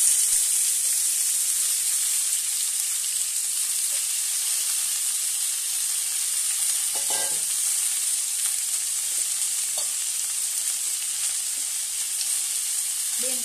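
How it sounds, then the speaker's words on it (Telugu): Cabbage frying in a pan with cumin and spices gives a steady, even sizzle and hiss throughout, with a few brief stirring clinks and no talking. "ఇవన్నీ కొంచెం వేయించుకుందాం అన్ని వేగాయి కదా ఇప్పుడు మనం కడిగి ఉంచుకున్న క్యాబేజీ వేసుకుందాం"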